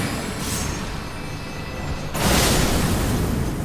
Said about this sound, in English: y'all are getting the cannon